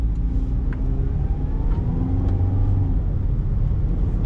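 A 2014 Perodua Myvi 1.5 SE auto on a test drive, with a steady interior engine rumble and road noise that rise gently as it accelerates, continuous and close with no talk.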